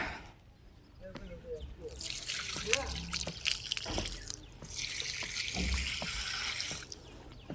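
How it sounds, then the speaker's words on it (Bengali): Water poured onto potted plants on a sunny rooftop, a splashing trickle that swells and fades in two main bursts, with scattered taps and footsteps close by. "এই যে বন্ধুরা আমি জল নিয়ে যাচ্ছি ছাদে গাছগুলোতে একটু জল দেবো"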